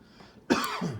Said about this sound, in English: got the coughs